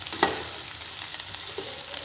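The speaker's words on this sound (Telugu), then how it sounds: "5 మినిట్స్ ఇలానే ఫ్రై చేసుకున్నామండి." Capsicum curry fries in a pan, a steady close sizzle throughout with a couple of brief stirring scrapes standing out near the start and end.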